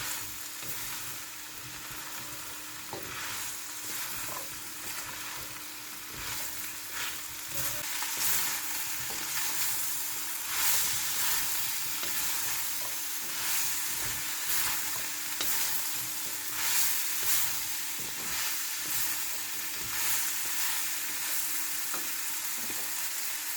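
Pumpkin (kalabasa) being stirred in a hot pan for pakbet, with a steady, close crackling sizzle and scraping stirs throughout and no talking.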